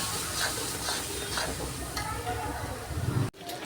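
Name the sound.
sautéing spice paste in oil for potato curry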